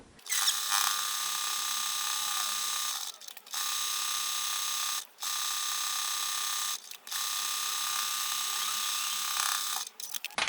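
A sewing machine back stitches a linen pouch made from scraps, a loud, steady high-pitched whir broken by four short pauses where it stops and restarts, close and alone without talk.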